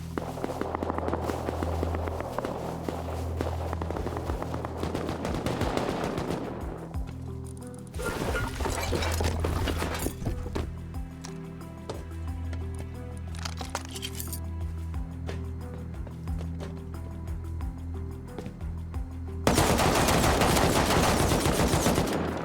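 Video-game AK rifle gunfire comes in dense rapid bursts over continuous in-game noise and footsteps, loud and close, with a fresh intense burst near the end.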